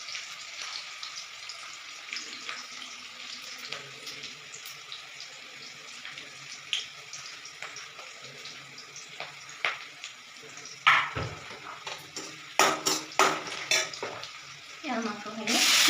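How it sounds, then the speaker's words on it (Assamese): Meat tips into a hot pan of frying onions, bringing a steady sizzle, then a burst of louder crackling and clattering as pieces hit the oil and get stirred, with sharp utensil knocks near the end. "মাংসখিনি ঢালি দিম।"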